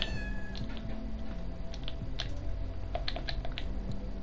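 A cat meowing close by while a computer keyboard clicks in quick irregular bursts, the drawn-out cries rising and falling over the typing.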